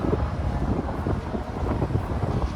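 Wind buffets the microphone outdoors at a seaside caravan park, a rough, gusty low rumble that swells and eases continuously with no voices.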